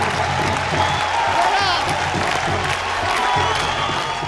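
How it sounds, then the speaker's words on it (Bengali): Loud crowd applause with cheering and a few whoops greets a contestant from Group B at a game event, a constant dense wash with voices mixed into the noise. "জোরে হাততালি হবে ইসমাইল হোসেন মনোয়ারের জন্য।"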